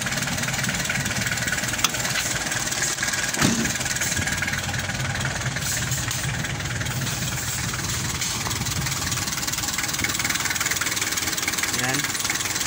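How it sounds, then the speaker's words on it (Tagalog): A steady Isuzu 4JG2 diesel engine idles continuously at close range, a low rumbling drone with a faint knock running throughout, with a couple of brief clicks. "ganda na ang andar makina"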